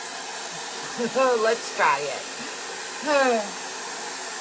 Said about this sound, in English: Maybe heat it up with a hairdryer.